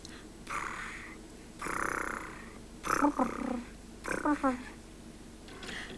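A voice imitates a cat's purr in several short rumbling bursts, close and fairly soft, separated by brief pauses.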